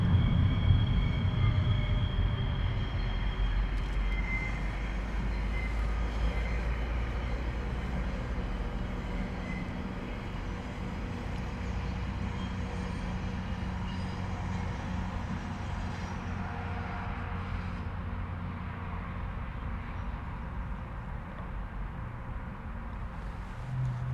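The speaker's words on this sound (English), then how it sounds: "a GO train is going by" A GO commuter train rumbles past steadily in Toronto, a low, continuous roar with rattling wheels that holds for the whole stretch without any talking.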